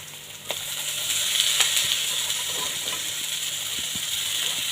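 Cabbage with turmeric and salt frying over high heat in a pan for village-style noodles, a steady broad sizzle with a few soft stirring clicks, close and continuous throughout.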